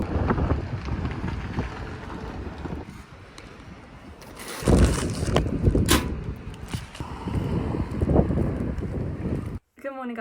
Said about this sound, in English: I don't know if you can hear me because it's really windy